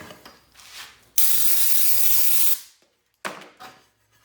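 A strong, close hiss of spray on a freshly sanded wooden cribbage board lasting about a second and a half, with quieter rustling before it and a brief burst after a short pause.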